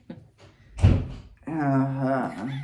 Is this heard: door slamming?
yes